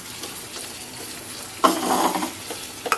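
Vegetables sautéed with shrimp paste and fish get stirred in a pan, with a scraping, clattering burst midway over a low background sizzle; no one talks.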